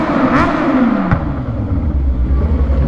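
Kawasaki ZH2 motorcycle with a full titanium exhaust revving nearby, a loud sustained engine roar with a pitch that swells up and back down and short throttle blips, heard alone with no talking.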